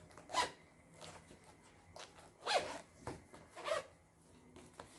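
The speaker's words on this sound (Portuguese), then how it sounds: "aqui agora você vai fechar, sempre deixando o zíper lá dentro." A zipper is run along a fabric notebook cover in a sewing project, several short, close rasping zips spaced over a few seconds, quiet and without speech.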